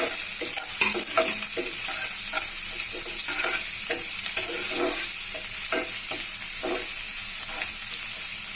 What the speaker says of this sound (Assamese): পিয়াজখিনি মই অলপ ভাজি ল'ম।